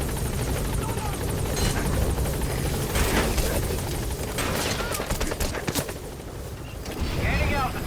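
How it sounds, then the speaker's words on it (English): A helicopter in the video game Metal Gear Solid V, its rotor roaring loud and continuous with bursts of gunfire and sharp impacts mixed in, voices faintly underneath. "Get on the chopper."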